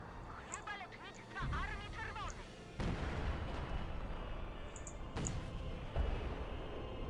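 Gunfire and artillery blasts from the World War II strategy game Company of Heroes 2, Leningrad scenario: several sharp booms and bursts at moderate level over continuous battle rumble, with someone talking over them.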